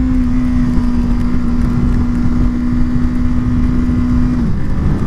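A Honda Grom motorcycle engine drones steadily while riding in second gear, a loud close hum and wind rush with a constant pitch that drops slightly near the end, no talk.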